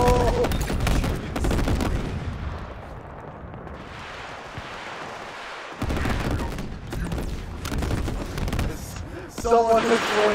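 Heavy weapon fire and booming blasts in Halo Infinite custom games, with assault rifle and rocket launcher in play, loud and continuous with a quieter stretch in the middle and louder bursts at the end.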